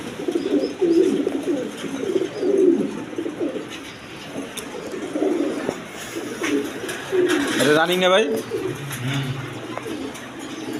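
Pigeons coo repeatedly in soft, rolling bursts close by, with brief chirps and shuffling around them while someone speaks briefly in between.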